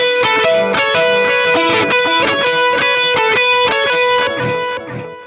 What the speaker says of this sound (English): So when you put it at speed with delay and you play it 2 times through,